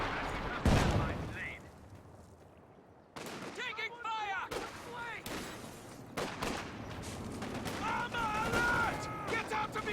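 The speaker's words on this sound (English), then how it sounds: "Is that a high explosive barrage coming in?" High-explosive artillery barrage in the strategy game Company of Heroes 2: repeated loud booms and gunfire bursts at irregular intervals, with sharp blasts and rumbling tails, while a commentator talks over parts of it.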